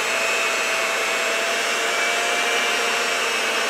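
An electric hand mixer works flour into oatmeal raisin cookie batter, giving a loud, steady motor whir that runs unbroken from start to finish.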